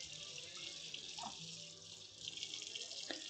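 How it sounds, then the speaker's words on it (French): Water runs from a tap as a kitchen knife is washed beneath it, a steady soft rushing stream with faint splashing shifts, fairly quiet and alone. "Je vais laver le couteau et je vais vous montrer."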